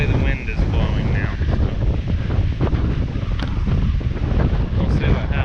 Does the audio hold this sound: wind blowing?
yes